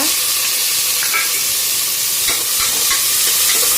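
Onion and tomato sautéing in a pan for vegetable biryani, a steady close sizzle with occasional scraping stirs of a spoon, no talking.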